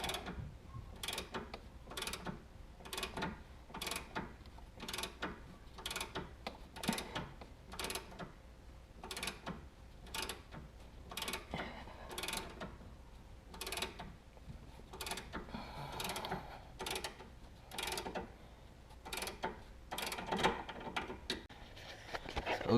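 Rapid ratchet clicks ring out in regular bursts as sway bar linkage bolts are tightened on a 2002 Jaguar S-Type, close and crisp, repeating steadily over twenty seconds amid faint workshop noise.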